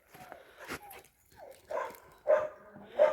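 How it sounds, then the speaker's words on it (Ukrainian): A dog barks repeatedly outdoors in a rural yard, with several loud, sharp barks spread over a few seconds and someone talking over them. "А я думаю, чого собака розривається?"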